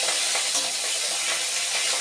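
Cut pieces of rohu fish fry in oil in a kadai with a loud, continuous sizzle and hiss, close up and steady, with no talking.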